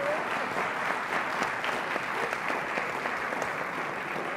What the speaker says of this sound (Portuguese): Palmas, se faz favor.